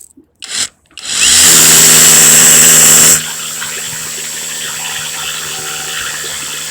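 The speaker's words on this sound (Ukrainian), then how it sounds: "Раз буримо." A power drill bores a hole into concrete for an anchor screw: after a couple of short bursts it whines loudly and steadily for about two seconds, then cuts to a quieter hum.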